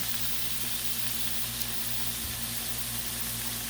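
Constant close sizzle and hiss of water on a hot Blackstone griddle cooking thick-cut pork chops, even in level with no talking.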